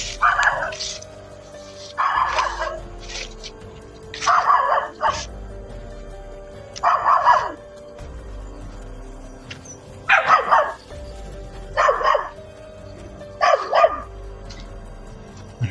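A dog barks in short repeated bursts, about seven in all, spaced a second or two apart, with some whimpering yips mixed in.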